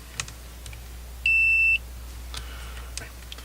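A multimeter in continuity mode gives a single clear electronic beep of about half a second, with faint clicks and handling noise before and after it.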